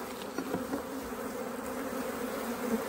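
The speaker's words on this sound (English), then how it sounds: "The bees are a bit feisty here." Honey bees swarm and buzz around an opened hive during a frame inspection, a dense, steady drone that holds throughout at close range with no talking.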